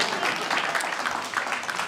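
Audience applause at a guide dog school graduation ceremony, a short burst of steady, moderately loud clapping from a crowd.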